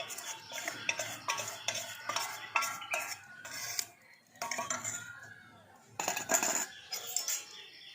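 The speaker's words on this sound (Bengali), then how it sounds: "সেই ব্যাটারটা একটুখানি নেড়ে নিচ্ছি" A spoon stirs a batter of rice flour, maida and besan in a bowl, giving repeated scraping clinks and sloshing knocks against the vessel in bursts with short pauses, close and fairly clear, with no talking.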